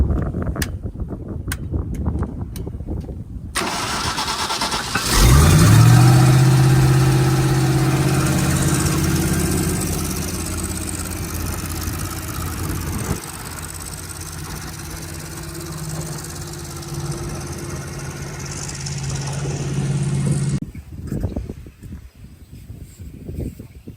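Farm engine running with oil turned up and overheating, starting after a few seconds with a loud rising roar, then settling into a steady, slightly droning idle before cutting out near the end.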